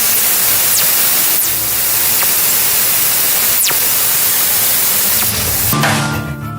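Dense hissing radio static in a deep-space recording of a fast radio burst, loud broadband noise crossed by a few faint descending sweeps, with a brief tonal hum near the end.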